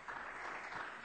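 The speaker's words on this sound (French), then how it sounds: "Plus fort, ces applaudissements." Studio audience applause on a 1995 French television quiz show, a brief, even burst of many people clapping that is moderately loud and has no talk over it.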